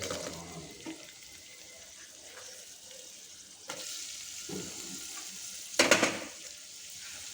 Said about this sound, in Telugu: ఆనియన్స్ బాగా ఎర్రగా ఫ్రై అవ్వాలి.